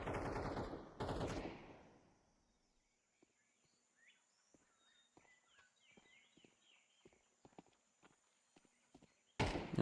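AK rifle fire in a competitive tactical shooter match, a couple of close bursts at the start and end with scattered faint distant shots and footsteps between.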